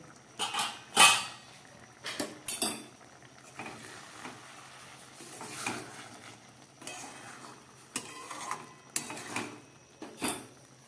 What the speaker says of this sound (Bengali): এবার ঢাকাটা খুলে দেখব ডালটা কতটা সিদ্ধ হয়েছে